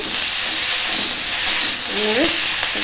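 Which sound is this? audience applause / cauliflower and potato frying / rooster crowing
cauliflower and potato frying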